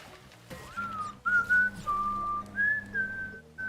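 A lone person whistles the Harry Potter theme tune in short, clear melodic phrases, fairly soft and close, with brief pauses between notes.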